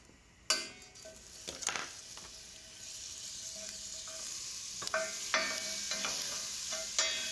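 Spices toasting in butter in a pan give a soft, steady sizzle, punctuated by a few sharp clinks and scrapes of a stirring utensil against the pan, quiet and close, with no one talking.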